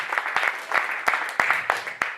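Applause for Jesus from a church congregation during a sermon, heard as a steady patter of clapping with sharper individual claps standing out at a regular rhythm, fairly close and moderate in level, with no talking over it.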